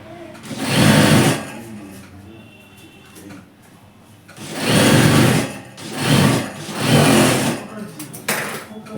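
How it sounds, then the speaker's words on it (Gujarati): A sewing machine stitches capri trousers in loud bursts of rapid mechanical whirring, three long runs separated by pauses with quieter handling sounds, close to the microphone while a person speaks. "એ ચાંપની સિલાઈ મારી દેવાની."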